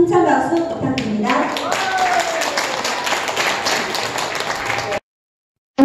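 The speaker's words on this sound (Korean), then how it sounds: "우승을 주신 감사님께 다시 한번 힘찬 박수 부탁드립니다." An audience at a recreation seminar breaks into applause after a voice speaks, a dense crowd of claps rising and holding for several seconds before it cuts off abruptly.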